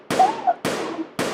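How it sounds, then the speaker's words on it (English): Three sharp, loud handgun shots captured over an emergency phone call during a neighborhood shooting rampage, evenly spaced about half a second apart, each cracking then decaying quickly. "That gunfire?"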